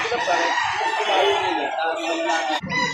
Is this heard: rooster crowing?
yes